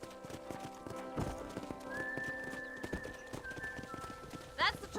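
Horse hooves clip-clop in a steady rhythm in Red Dead Redemption, joined by a whinny and a sustained whistle-like tone, with game voices heard over the hoofbeats.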